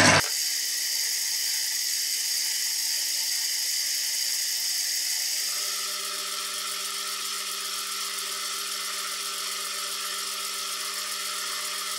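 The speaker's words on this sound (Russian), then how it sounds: "Поэтому будем полировать пастой Гои." A small electric rotary polishing tool whines steadily as brass is polished with GOI paste, a close sustained high-pitched hum whose pitch shifts partway through, with no talking.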